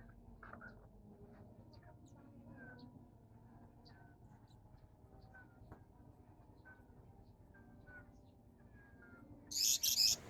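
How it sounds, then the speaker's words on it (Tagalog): A parrot calls at a bird park in Capas, Tarlac, giving scattered faint chirps and squawks over a quiet outdoor background, with a louder burst of calls near the end. "This is a parrot."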